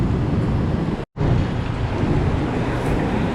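Heavy rain pours steadily during a tropical storm in Cubao, Metro Manila, a dense, close, continuous wash with wind buffeting the microphone and a brief dropout near the start.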